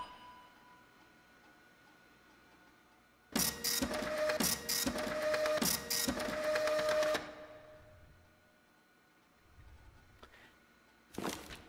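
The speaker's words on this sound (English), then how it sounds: "the printer has a job waiting, so we might as well print whatever that is" A printer in the puzzle game The Eyes of Ara runs a print job, with a burst of rapid mechanical ticking and whirring lasting about four seconds that rises out of quiet ambience, then a brief clatter near the end.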